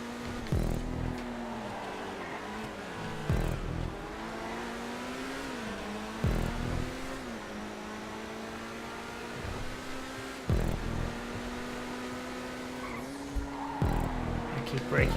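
Race car engines hum steadily through a GTA 5 city-circuit race, with repeated bursts of tire squeal and skidding as the car brakes for a corner and chicane, loud and continuous throughout.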